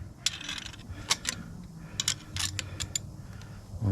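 A wrench loosening a transmission cooler line fitting during a 7.3 to 6.0 line adaptation, a few sharp metallic ratcheting clicks and clinks close by over a low hum, with no talk.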